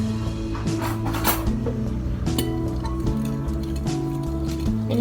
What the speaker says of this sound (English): And then I am going to stir it.